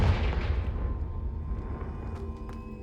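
A Confringo explosive spell in Hogwarts Legacy goes off as a single deep blast that decays over a couple of seconds, followed by a few faint, high-pitched crackles.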